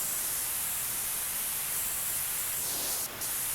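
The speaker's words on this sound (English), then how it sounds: "We'll go ahead and spray what we can from the top." A pressure washer jet sprays steadily in PowerWash Simulator 2 at a rock climbing park, a loud unbroken hiss that fills the clip with only a brief dip near the end.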